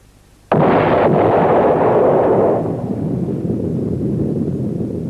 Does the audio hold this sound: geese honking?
no